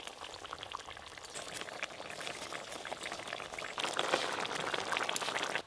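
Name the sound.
fish curry broth boiling in a pan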